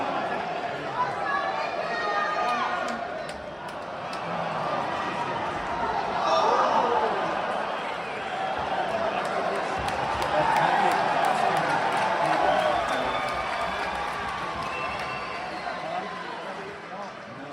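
An arena crowd at the Craig Jones Invitational jiu-jitsu event roars and chatters in a dense, continuous wash that swells and fades, with a voice talking over it.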